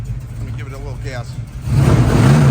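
1978 Chevrolet Malibu engine idling with a low rumble under a brief voice, then the throttle opens and it swells into a loud, close rev that holds to the end.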